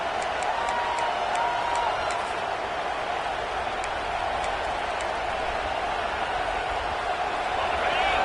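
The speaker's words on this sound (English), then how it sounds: "The roar of the crowd trying to fuel this defense to keep them pinned in their own end." A college football video game crowd (CFB 26, South Carolina vs Mississippi State) roars in a steady, unbroken wall of stadium noise that holds evenly throughout.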